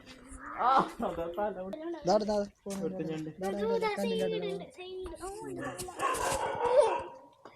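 A dog barks and yips repeatedly at close range while people, including a child, talk over and between the barks.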